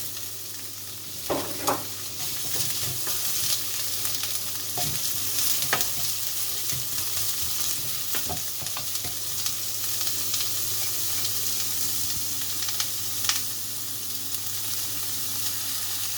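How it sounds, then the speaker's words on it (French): Onions frying in a little oil in a pan, a continuous close sizzle broken by occasional clicks and scrapes of a utensil stirring them. "On va mettre d'abord les oignons. On va les faire revenir."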